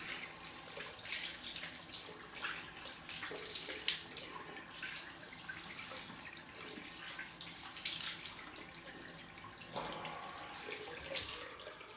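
Running water from a tap splashes as someone rinses their face with cold water after a straight-razor shave, a faint steady flow broken by irregular small splashes, with no talking.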